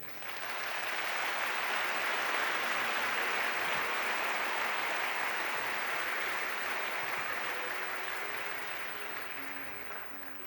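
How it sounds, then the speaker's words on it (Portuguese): Church congregation applauding at an evening service, a broad, sustained wash of clapping that swells quickly and holds for about ten seconds before easing slightly, moderately distant. "Pode aplaudir o Senhor."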